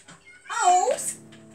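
A single drawn-out cat meow from Minecraft rises and falls over about half a second, close and clear against a quiet background.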